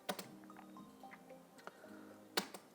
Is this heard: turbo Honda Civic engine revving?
no